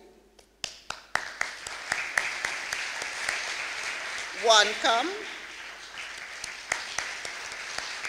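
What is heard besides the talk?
audience applause for sponsors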